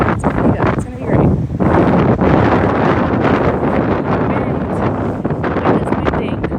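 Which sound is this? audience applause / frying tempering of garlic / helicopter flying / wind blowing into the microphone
wind blowing into the microphone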